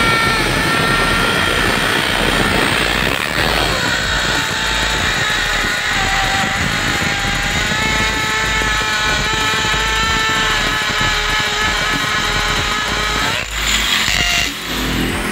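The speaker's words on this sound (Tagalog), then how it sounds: "Ayan, masonry bit. Kasi semento yung bubutasan natin." A 650-watt Bosch GSB 13 RE electric drill with a masonry bit bores into cement, giving a loud, steady motor whine and grinding that runs continuously at close range.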